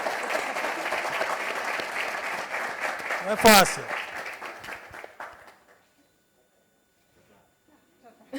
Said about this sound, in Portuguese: Uma salva de palmas para a Laurinda